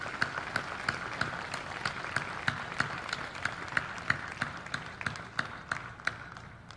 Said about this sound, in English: Let's have one more round of applause for the Don Bosco Award winners for the class of 2020